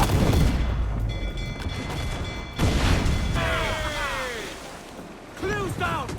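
Ship cannon fire during a naval battle in Assassin's Creed Black Flag, heavy booming blasts mixed with ocean waves and surf. Shouted crew voices are heard over the roar.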